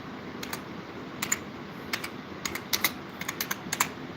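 Rapid typing on a computer keyboard, a string of light clicks in uneven bursts and short pauses, heard up close over a steady low background hum.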